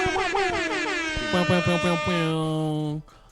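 A blaring air horn sounds in a series of short rhythmic blasts, then one long sustained blast that cuts off abruptly.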